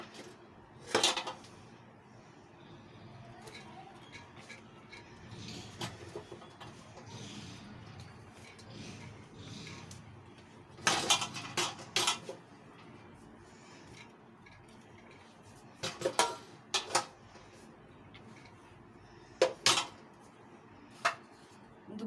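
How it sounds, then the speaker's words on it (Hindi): Rice being tipped into a large pot of degi biryani layered with korma, giving brief scattered clatters and pours between quiet stretches, close and moderately loud with no talking. "अब दोबारा से चावल डालेंगे।"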